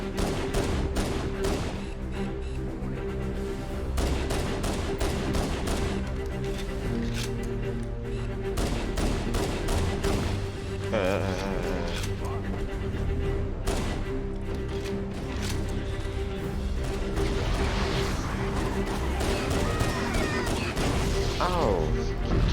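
Gunfire in the Halo video game rattles continuously in rapid bursts at high volume, layered with game music and effects throughout.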